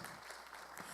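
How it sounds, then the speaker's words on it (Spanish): A congregation at a church service gives a brief, faint wash of applause, a steady hiss of many hands clapping at a distance. "Démosle un fuerte aplauso a ellas."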